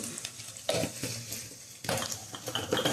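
Egg rice is stirred and fried in a pan, with a steady soft sizzle broken by close scraping strokes and clinks of a utensil against the pan.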